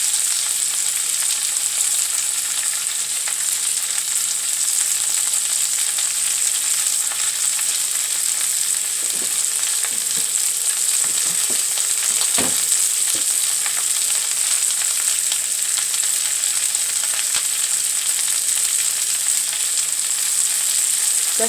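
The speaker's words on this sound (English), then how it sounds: "So we're going to let that saute for a couple of minutes before taking it out." Vegetables sautéing with garlic and kosher salt in a pan make a loud, constant hiss of frying oil, with a few scraping stirs partway through and no speech.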